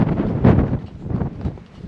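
Wind gusts against the microphone on a farm field, giving low, irregular buffeting rumbles that swell and fade over a couple of seconds.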